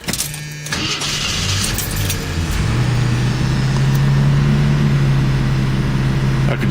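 A car engine cranks briefly and catches, then settles into a steady, even idle that runs close and loud to the end, with a faint jingle of keys near the start.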